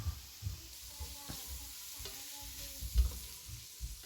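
Chicken pieces frying in a little oil and being turned, a faint sizzle under intermittent knocks and scrapes of a utensil against the pan, one firmer bump toward the end, no voices.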